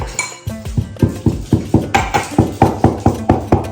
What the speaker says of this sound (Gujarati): તો આપણે એલાયચી ખોડી નાખીએ